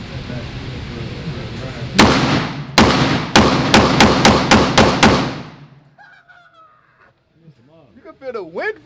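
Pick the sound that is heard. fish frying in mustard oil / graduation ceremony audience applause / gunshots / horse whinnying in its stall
gunshots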